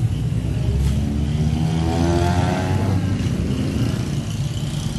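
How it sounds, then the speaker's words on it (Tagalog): A Smash motorcycle that has been converted to a disc brake runs close by. Its engine idles loudly, then revs up and falls back midway through, with a steady rumbling drone throughout and no talking. "ito yung motor na kuna pinalitan natin ng disc brake"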